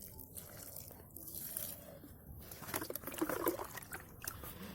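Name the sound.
water being poured onto plants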